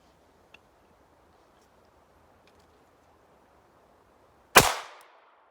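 A single sharp, loud shot from a Ruger pistol firing a Novex Pentagon 380 ACP solid copper hollow point, cracking out of near silence with a short decaying echo, preceded by a faint click.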